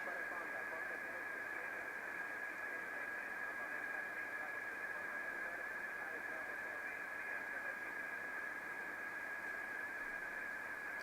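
Amateur radio reception on the 10 meter band comes through as a steady hiss of static with a constant high interference tone, faint and unbroken throughout.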